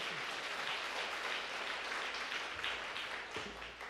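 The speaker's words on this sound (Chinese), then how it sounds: "我们再次用热烈掌声谢谢" Church congregation applauding during a Sunday worship service, a steady broadband wash of many hands clapping continuously throughout, fairly distant and diffuse with no talking.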